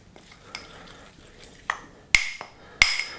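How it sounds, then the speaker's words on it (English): A little spoon mixing Moroccan spice paste with honey in a bowl: scattered soft scrapes, then two sharp, bright clinks of metal against the bowl near the end, close and alone. "So I'm going to use a little spoon just to mix this up"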